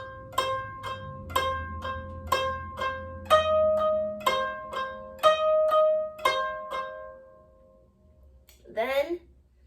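Koto plucked in a steady, even rhythm across strings 9 and 11, each note ringing with a bright, decaying tone, about a dozen plucks in a row at close range, ending with a brief murmur of voice.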